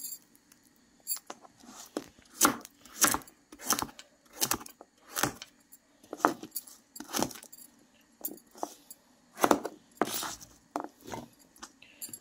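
Repeated crisp chopping sounds of a young pumpkin being cut on a board, irregular but frequent, close by with no talking.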